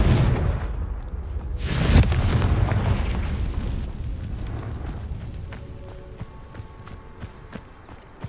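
A Confringo fire spell detonates in Hogwarts Legacy with a loud booming blast and a rumbling roar that slowly fades, followed by scattered small crackles and clicks.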